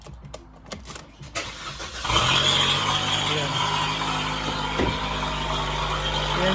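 A truck engine that has just had parts fitted cranks and fires at about two seconds, then runs on as a steady, close rumble. A few words are spoken faintly beforehand.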